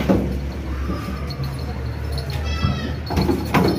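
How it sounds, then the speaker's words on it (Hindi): Goats, including a nanny with a kid, bleat a few times at close range amid outdoor background noise, with a person talking nearby. "ये नदीम भाई की बकरी है ये बच्चे वाली"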